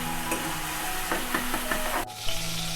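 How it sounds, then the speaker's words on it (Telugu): Mushrooms fry lightly in hot oil in a pan, giving a steady close sizzle, with several soft scraping stirs partway through and a brief drop in the hiss near the end. "మష్రూమ్స్ని ఇలా లైట్గా వేయిస్తే సరిపోతుంది"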